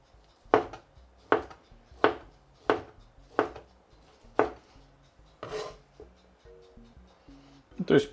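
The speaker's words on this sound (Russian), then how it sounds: "режу его" Knife dices pork belly on a board in a steady series of six sharp strikes, then a softer scrape and one final chop; faint background sounds.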